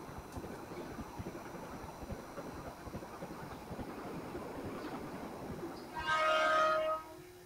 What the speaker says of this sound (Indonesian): Wih, barusan lewat tuh kereta apa nih?